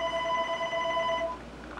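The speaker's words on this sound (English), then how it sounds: "Let me go get the phone." A telephone rings once in a motorcycle repair workshop, giving a bright, steady electronic tone for just over a second before it stops and leaves a quiet room.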